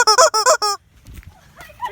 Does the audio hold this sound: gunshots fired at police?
no